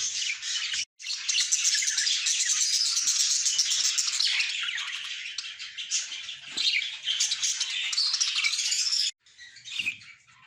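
A breeder pair of parrots in a cage at a bird shop chirps almost nonstop, a dense, loud stream of high chattering calls with two brief pauses.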